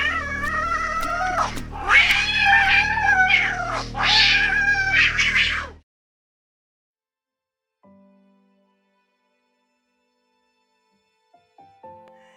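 A cat sound effect wails and yowls as if in pain in loud, drawn-out cries for several seconds, then cuts to near silence with only faint, brief noises.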